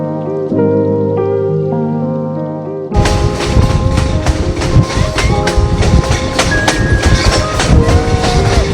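Conway Scenic Railroad train on its tracks, a quieter tonal passage giving way to a loud, dense rumble with steady clattering and rattling of cars, heard from on board or close by.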